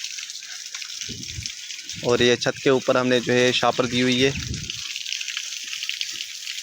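Rain trickles and drips steadily on the roof of a village house on a rainy morning, a constant wet wash under someone speaking for several seconds in the middle.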